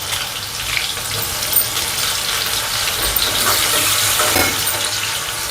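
Onion sizzling in hot oil with cumin seeds and asafoetida, a steady bright crackle and hiss that holds through the whole stretch without a break.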